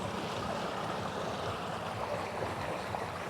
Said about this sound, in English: the one and only drain pipe. You see how much water is going through it.